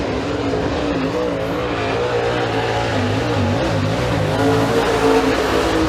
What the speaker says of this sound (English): Next car coming out, it's the 75 of Jason Dobson.